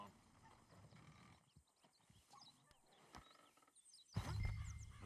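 Horse hooves clip-clop in the Western video game Red Dead Redemption 2, a soft uneven run of hoofbeats at middle distance, ending in a louder burst that may be a neigh.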